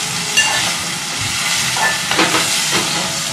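Onions and tomatoes sizzle steadily in a hot pan for a chicken liver curry, a continuous frying hiss with a few brief bursts of stirring, close and fairly loud with no talking.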